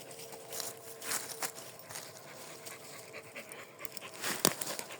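A dog pants rapidly and steadily nearby, with a few faint shuffling sounds in the background.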